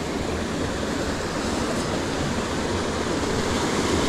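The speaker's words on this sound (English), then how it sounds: "This trail turned into a waterfall. And we climbed the waterfall." A waterfall pours over a mountain bike trail, giving a steady, dense rush of water that stays constant and fairly close throughout, with no voices.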